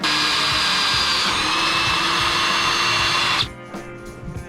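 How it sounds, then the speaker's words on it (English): A power drill bores a small pilot hole for a caster camber plate on a 1994–2004 Ford Mustang. The motor whines steadily and loudly for over three seconds, then stops abruptly, leaving faint clatter. "I'm gonna drill a pilot hole, which is a much smaller hole than what is necessary to start"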